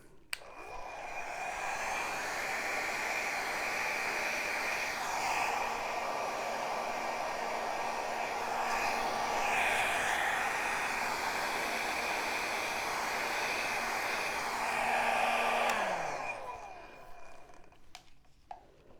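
A hair dryer blows steadily across wet paint on a canvas, a continuous loud airy roar that holds for about fifteen seconds, shifting slightly as it moves, then switches off into quiet.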